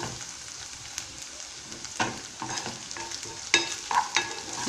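Stuffed eggplant with minced meat frying in a pan, a steady sizzle broken by a few sharper scraping stirs and clinks, close and without talk.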